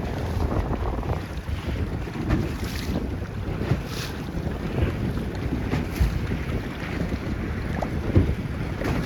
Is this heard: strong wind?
yes